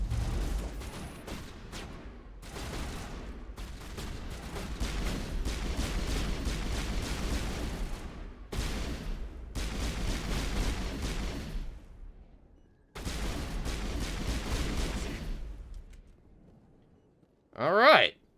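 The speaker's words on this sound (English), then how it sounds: "Nice little shootout in the med bay." A gunfire shootout in the med bay in the video game Mass Effect: long bursts of assault-rifle fire in several sustained volleys separated by brief pauses, with a short voice line near the end.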